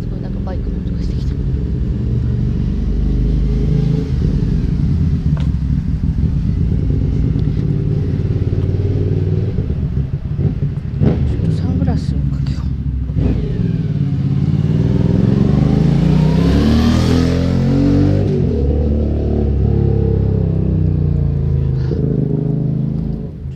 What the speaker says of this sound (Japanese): あ、すごいなんかバイクの音がしてきた。